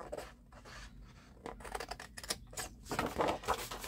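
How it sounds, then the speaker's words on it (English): Paper being cut along a score line while assembling a four-sheet folio pocket, heard as close, quiet snipping and scraping in short irregular bursts, getting louder toward the end, with no talking. "So we're going to cut out the score mark on the left-hand side as well."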